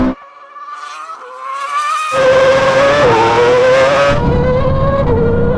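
A Porsche 918 Spyder, Bugatti Veyron and Red Bull RB8 Formula One car drag racing from a rolling start in second gear, engines screaming loudly as they rise in pitch and shift together.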